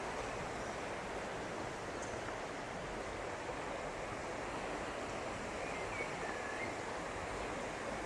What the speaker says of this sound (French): voir ici un peu plus la rivière